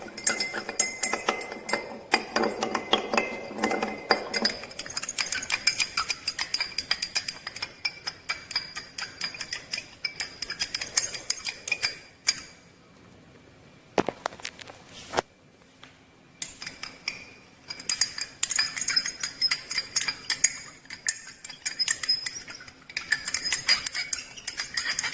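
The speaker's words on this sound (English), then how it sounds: "And I will stir by using the glass rod." A glass rod stirring sugar solution in a glass for a chemistry demonstration makes continuous bright clinks and taps against the glass, near and busy, with a short quiet pause midway before the stirring resumes.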